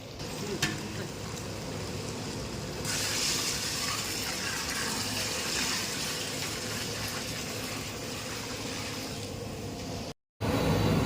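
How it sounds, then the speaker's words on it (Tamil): Water pours steadily into a hot pot for vegetable pulao, a continuous rushing hiss that runs almost unbroken before cutting off briefly near the end. "இப்போ நாம் தண்ணி ஊற்றலாம்"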